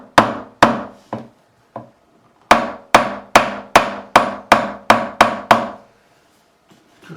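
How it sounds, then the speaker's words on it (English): Sharp wooden-sounding taps from a nylon-ended hammer seating parts into an ESP Ltd EC-1000 Deluxe guitar under the heel: a few spaced knocks, then a steady run of about nine evenly timed, close, crisp strikes. "Just gonna tap these in with a nylon end of the"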